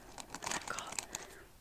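A crunchy squishy toy covered in cat hair being squeezed up close, giving a dense run of crinkly, crackling crunches that continue steadily throughout.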